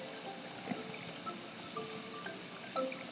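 Crops being watered in Stardew Valley make a soft, quiet trickle with a few faint drips and splashes over a low steady hiss, without talk.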